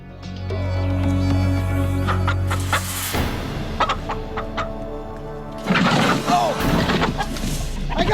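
Chickens cluck and squawk nearby in agitated bursts while one is chased and caught in a net, with a person talking and other noises mixed in.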